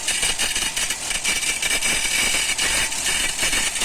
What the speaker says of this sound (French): mais le bruit vient du moteur en fait.